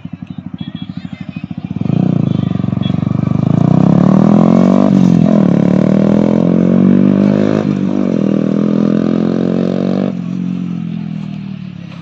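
A modified Yamaha R15 V3 motorcycle with an aftermarket exhaust rumbles at idle, then swells into a loud, sustained, throaty engine drone that rises and falls in pitch as it revs and passes, easing off near the end.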